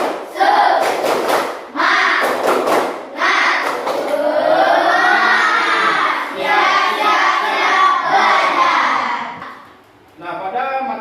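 A class of students does an Indonesian rhythmic clap-chant, with short bursts of loud group clapping between stretches of voices chanting and singing together in unison.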